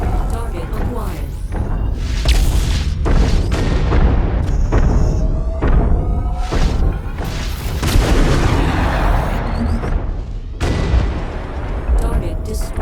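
Video game bombing run with heavy explosions landing one after another, loud deep booms and crackling blasts in irregular bursts, with radio-style voices talking over them.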